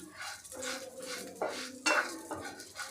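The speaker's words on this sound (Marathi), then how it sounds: "हा भरडा आपल्याला मंद गॅसवर खमंग सोनेरी रंगावर भाजून घ्यायचा आहे" Coarse wheat flour roasting in a pan over a low flame, quiet dry scraping and stirring with a few louder spoon scrapes against the pan, close with no voices.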